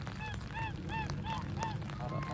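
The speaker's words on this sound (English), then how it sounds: "Two geese." Geese honking near water's edge where ducks gather, a series of about six or seven nasal honks in an uneven rhythm, clear and fairly close over a low background rumble.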